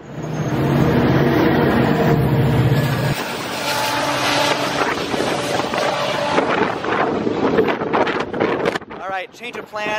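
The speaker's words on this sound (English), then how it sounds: "Gosh, it's windy." Strong wind in Toronto buffets the microphone in low, rumbling gusts that ease off partway through, leaving a noisy, blustery background.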